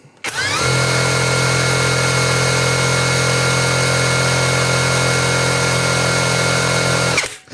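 A SHIDOKU SH-G3 cordless impact wrench runs at third speed, a loud, steady whine starting abruptly and holding for about seven seconds before cutting off, alone without talk.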